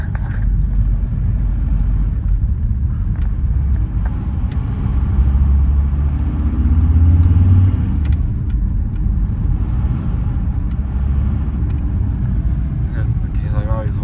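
A VW T4 with the 2.5 engine idles and pulls away from inside the cab, giving a steady low rumbling drone that swells briefly as it revs. Someone talks over the engine at times.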